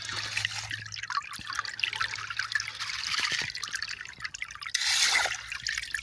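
Water runs and trickles steadily through a small adventure sluice set up for gold panning outdoors, a soft continuous splashing flow that swells briefly near the end.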